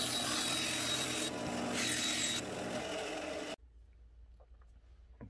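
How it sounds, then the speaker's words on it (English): A tool cuts steadily around a part of a Sig P365 pistol, producing a continuous loud rasping, grinding noise that stops abruptly partway through, leaving quiet handling sounds. "I'm going to cut it right here, cut it all the way around"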